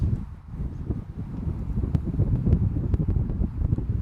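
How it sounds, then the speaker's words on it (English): Gusty wind buffets the microphone at an over-60s cricket match, a low rumbling roar that rises and falls continuously, with a few faint clicks in the background. "windy conditions here at the moment"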